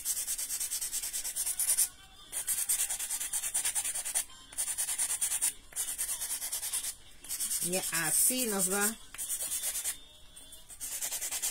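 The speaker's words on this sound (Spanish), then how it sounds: "eso de los cortes, todo tienen que lijarlo." Sandpaper rubs the cut edges of a handmade craft piece in steady back-and-forth scraping strokes with short pauses, close and fairly loud, with a brief spoken phrase partway through.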